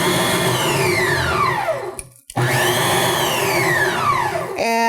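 An 800-watt KICHOT 8.5-quart tilt-head stand mixer run on pulse, its motor whine sweeping up to full speed, cutting out briefly, then spinning up again, loud and steady up close.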